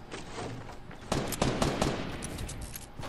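Rapid gunfire from a shooter video game, with dense bursts of automatic fire that swell louder midway and keep going steadily to the end, no talk over it.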